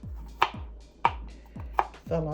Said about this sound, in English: This is about 2 small heads of garlic cloves, and I'm gonna cut them really fine.